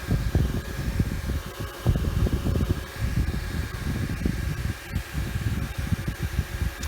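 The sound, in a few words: neck fan running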